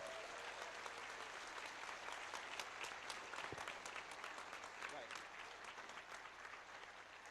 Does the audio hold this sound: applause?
yes